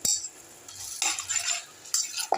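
A spoon scrapes and clinks against a pot while ground coconut masala with curry leaves is mixed into chicken curry, in several short bursts of stirring with quiet gaps between them.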